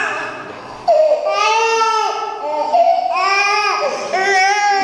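A hungry baby cries loudly in repeated wailing bursts, close by, at an outdoor annual fair gathering.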